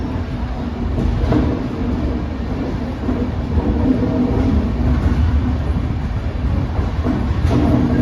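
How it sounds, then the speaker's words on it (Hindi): The Kota-Hisar Express, train 19813, runs with a loud, steady low rumble and rolling wheel noise, heard continuously from close by, as if from inside or beside the moving train. "अपनी ट्रेन संख्या 19813 कोटा हिसार एक्सप्रेस, जिसमें अपन आज जाने वाले हैं"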